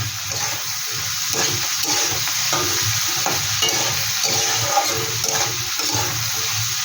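Small kachki fish with a pinch of turmeric fry in a pan, a continuous close sizzle broken by rhythmic stirring and scraping, with no one speaking.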